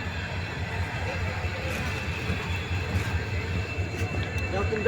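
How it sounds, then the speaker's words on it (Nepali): A train pulls into a platform at an Indian railway station, producing a continuous low rumble of wheels and carriages that stays fairly loud and even throughout. "ट्रेन आ रहा है अब यहाँ पे रुक जाएगा 1 मिनट के लिए"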